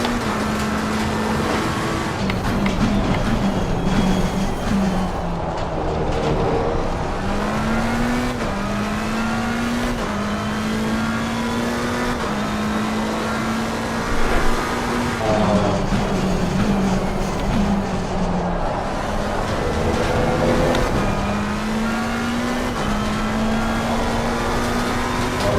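A McLaren 720S EVO race car in Assetto Corsa Competizione at Hungaroring gives a loud, steady engine drone as it accelerates. The pitch climbs through the gears and dips at each shift, with faint tire noise underneath, and nobody speaks over it.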